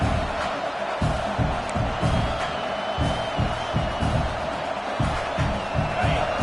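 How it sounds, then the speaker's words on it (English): Dense football stadium crowd roaring and cheering at a College Football Playoff game between Texas A&M and Iowa, a loud steady wall of noise with rhythmic thumps, as if the crowd were stomping or clapping. "This crowd knows they have to bring it in big moments"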